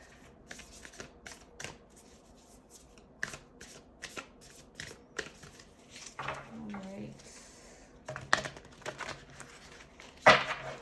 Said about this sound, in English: Still got those sloppy shuffles